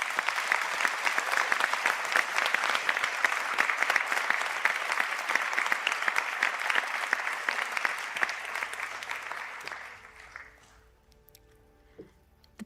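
Civil engineering graduates stand at a Sligo conferring ceremony as a large audience gives them a sustained round of dense clapping that holds steady for about ten seconds, then thins and fades into near quiet.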